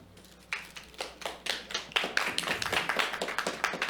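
Scattered claps at a county board of supervisors meeting build into steady applause from a small audience in a hall, starting sparse and thickening into a brisk, moderately loud patter.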